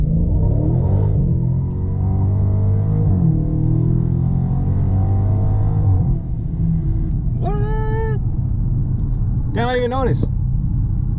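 Loud, steady engine rumble from a car on brand-new tires during a 0-60 acceleration run, continuous throughout with someone talking over it.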